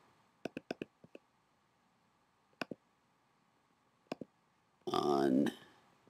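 Computer mouse clicks in a quiet room, sharp close clicks in small clusters of two and three spread across the clip, followed by a short burst of speech.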